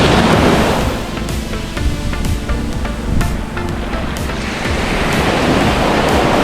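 Loud surf washing onto Tejadas Beach on Jomalig Island in continuous rushing waves, with gusty wind buffeting the microphone throughout.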